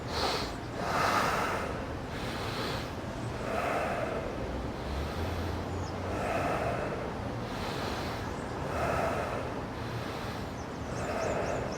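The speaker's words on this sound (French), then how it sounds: "c'est une respiration où le ventre gonfle, mais pas la poitrine" Slow diaphragmatic belly breathing, demonstrated close to the microphone: about six long, airy inhale and exhale cycles at an even, unhurried pace over steady room noise. No talking.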